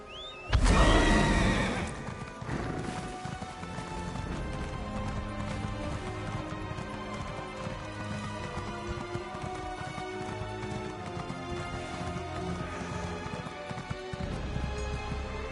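Horse at a stable in the video game Elder Scrolls Online: a loud whinny right at the start, then steady clip-clopping hooves and game ambience carrying on to the end.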